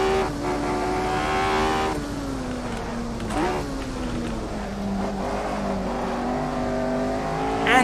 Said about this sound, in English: The sounds on this car are fantastic.